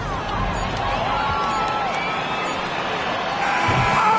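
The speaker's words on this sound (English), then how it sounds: "This crowd is going nuts." Loud, sustained cheering and whooping from a WNBA basketball arena crowd right after a buzzer beater, a dense roar that swells near the end.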